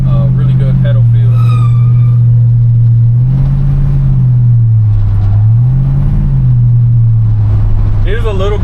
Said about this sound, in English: There's a little bit of drone from the exhaust.